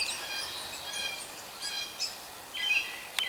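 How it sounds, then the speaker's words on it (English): Birds sing outdoors around a garden of berry bushes and edible plants on a spring day, with scattered chirps and short whistled phrases at moderate distance over a soft, steady background. "And of course, all the lovely bird song in the background."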